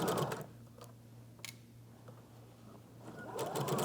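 A sewing machine stitches a slow, careful seam in two short bursts at the start and end, quiet with near silence between.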